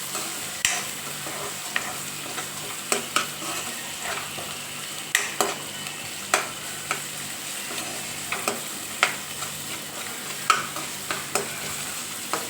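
Tomatoes sizzling steadily in a hot pan, with frequent scraping and tapping of a spoon stirring them, loud and close with no talk.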